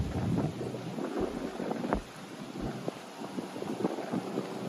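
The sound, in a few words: wind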